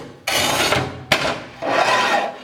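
A Montolit Masterpiuma tile cutter's lubricated wheel scoring across tile, giving two long close gritty rasping strokes separated by a sharp click, loud and without talk.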